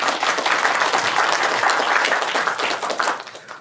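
An audience at a Yangpyeong County rural-revitalization training session applauds with dense, steady clapping for about three and a half seconds, thinning out at the very end.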